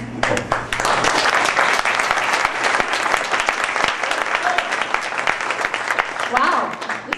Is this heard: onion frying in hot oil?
no